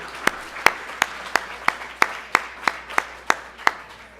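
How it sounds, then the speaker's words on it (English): At a Hall of Fame ceremony, a few people clap slowly and unevenly to thank the staff, each clap a distinct sharp crack with pauses between them. "Can we just have a nice round of applause and thanks for the Athenaeum staff tonight?"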